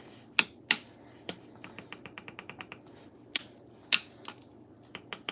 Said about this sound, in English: Yep, here's that clicking we like to hear.